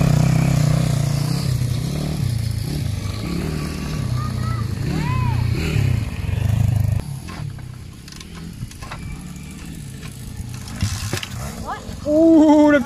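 A motocross motorcycle engine idles and revs loudly up close, with a kick-start kickback and some clattering, while people talk over it during the ride outing.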